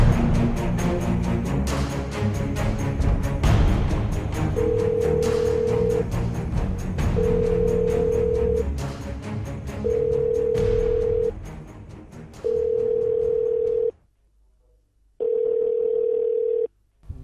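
A telephone call tone over a broadcast background: five steady, evenly spaced beeps about a second long with short gaps, loud and near, with the background cutting out near the end.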